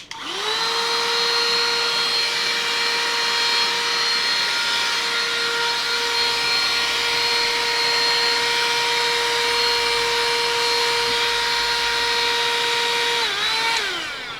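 Absorb AB101 cordless car vacuum cleaner running steadily for the whole stretch with a loud, constant motor whine that barely changes pitch, then winding down as it switches off near the end.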